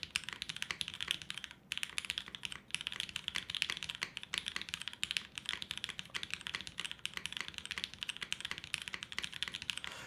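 Steady, rapid typing on a mechanical keyboard, crisp clicky keystrokes in a continuous stream, close up with no talking.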